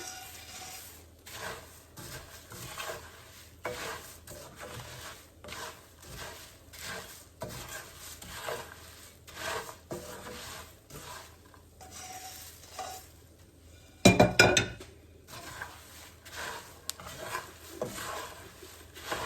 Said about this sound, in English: Just keep mixing it, all the colors, the turmeric color and salt and everything has to be mixed nicely, thoroughly.